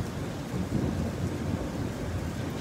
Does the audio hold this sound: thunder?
yes